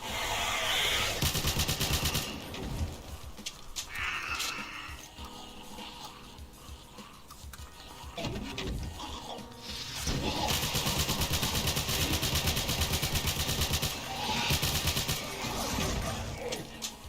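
Rapid bursts of gunfire from a weapon in the shooter game Call of Doom Black Warfare, with dense volleys that come and go between quieter stretches, loud and close.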